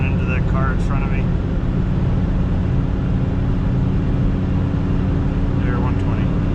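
A Smart Fortwo CDI accelerates on a highway from 100 to 120, its small diesel engine making a loud, constant droning roar mixed with road and wind noise, with someone talking briefly over it.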